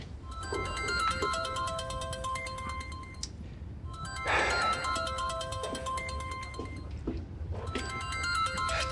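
A mobile phone ringtone plays loud and close in a Chinese TV drama scene, in three bursts with short gaps, and no one speaks.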